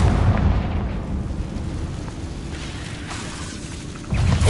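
A Confringo blasting spell detonates in Hogwarts Legacy as a heavy rumbling explosion, loud at first, settling into a low sustained roar, then swelling again with a fresh burst near the end.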